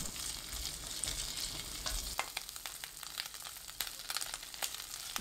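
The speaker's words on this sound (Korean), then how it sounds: "팬에 식용유 1큰술, 소세지 넣고 센 불로 익힙니다" Sausages frying over high heat in a pan with a tablespoon of cooking oil, making a steady close sizzle and crackle with scattered pops throughout.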